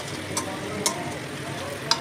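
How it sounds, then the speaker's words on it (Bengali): Eggplant pieces cooking in hot oil for doi begun, a gentle steady sizzle with a few brief stirring clinks and scrapes of a utensil against the pan, close and fairly quiet. "এবার বেগুনগুলোকে দিয়ে আবার একটুখানি নাড়াচাড়া দিয়ে ঢাকা দেবো না, হালকা আছে একটুখানি ফুটিয়ে নেব।"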